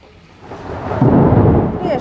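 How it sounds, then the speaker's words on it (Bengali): Thunder rumbles loud and close as rain begins, a low swelling roll that builds over two seconds. "প্রচণ্ড মেঘ ডাকছে, বৃষ্টি শুরু হয়ে গেছে।"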